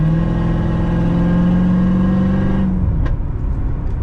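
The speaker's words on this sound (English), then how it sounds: "I love how this car burbles." An E85-fuelled C7 Corvette V8 burbles loudly up close through a short acceleration pull, its rumble rising steadily then dropping off after about three seconds, with no talking.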